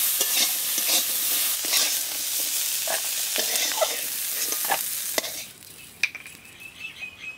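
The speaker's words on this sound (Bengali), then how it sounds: "লবণ হলুদ দিয়ে কাঁকড়াটা ভালো করে ভেজে নিচ্ছি" Crabs frying in a pan with salt and turmeric, a dense steady sizzle with scraping stirring strokes, fading to quieter crackle near the end with a few sharp clinks.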